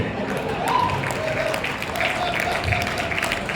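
Applause from the audience at an international Hindi poetry recital (kavi sammelan) in Bhayandar: a continuous wash of clapping at moderate level, mixed with murmuring voices and a faint tonal sound running through it.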